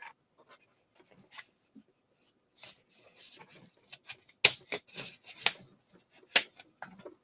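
Scissors snip through a sheet of rhinestone fabric, a few sparse rustles and then a quicker run of sharp crisp cuts, close and fairly quiet.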